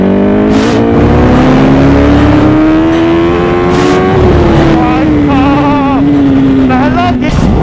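A Yamaha R1 motorcycle, an older model with four exhausts, revs hard in first gear, its loud engine note climbing steadily then dipping, close and continuous, with voices talking over it.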